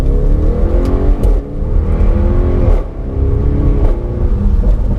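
Audi RS6 Performance fitted with an Akrapovic exhaust, its engine giving a steady deep burble with a couple of brief swells in level, close and continuous with no talking.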